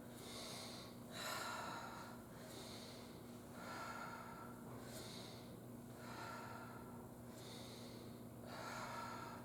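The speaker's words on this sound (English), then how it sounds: "Inhale up, exhale down." Slow, deep breaths during seated chair-yoga arm swings, each audible inhale and exhale following the next in a steady rhythm, close and soft against a faint hum, with no talking.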